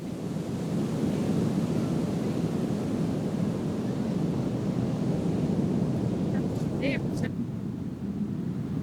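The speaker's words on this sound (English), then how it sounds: "I'm actually just about to go and check out the waves" Surf at Playa Las Americas beach in Tenerife, a surfing spot, rolling as a steady broadband wash, loud and continuous with wind buffeting the microphone, and a faint high whine near the end.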